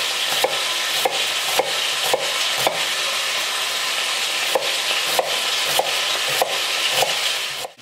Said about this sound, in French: pendant qu'on est en train de faire revenir la viande